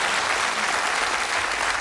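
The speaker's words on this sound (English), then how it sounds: "Give him a nice round of applause." Studio audience applause on a darts game show, a dense, loud, even burst of clapping from the whole crowd with no voices over it.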